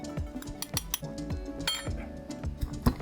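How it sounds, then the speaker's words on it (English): Chili and garlic are pounded into a paste for a Thai sea urchin salad, a series of irregular knocking thuds from a pestle striking a mortar, mixed with light clinks, close and fairly quiet with no voices. "And keep pounding into a paste."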